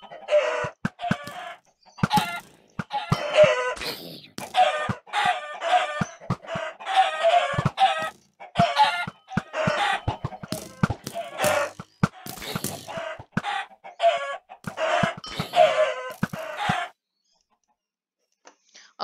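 Chickens in a Minecraft Mineplex game cluck in quick, repeated bursts of game sound effects, dense and nearly continuous, then stop near the end.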